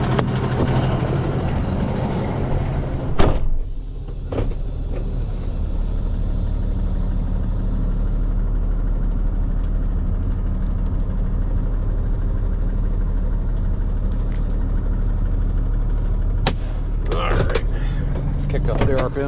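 A truck engine idles with a steady low rumble for nearly twenty seconds, broken by a few clunks and sharp knocks, while people talk over it at times.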